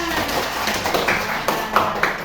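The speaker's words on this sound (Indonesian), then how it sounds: "Tepuk tangan." Scattered classroom clapping from a small group of students, a few sharp, uneven claps over steady background noise.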